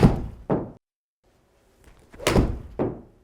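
A 7-iron strikes a golf ball, with two sharp impacts each followed half a second later by a dull thud, separated by a short silence.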